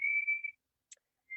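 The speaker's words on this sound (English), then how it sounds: "Sorry if you can hear whistling in the background" A clear, steady whistled note holds for about half a second, then after a short silence and a faint tick, the whistle starts again.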